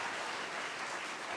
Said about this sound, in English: Can we get a quick round of applause for Mr. B over there?